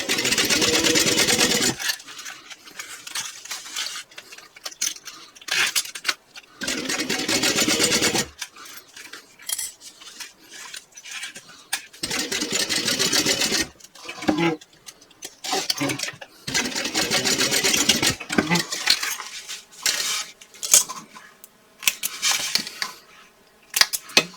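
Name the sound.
sewing machine topstitching a bag seam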